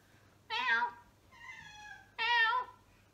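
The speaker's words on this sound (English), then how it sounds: "Can you hear my cat? The loud one." A pet cat meows loudly indoors: two strong, drawn-out meows with a quieter mewing cry between them, close to the microphone in an otherwise quiet room.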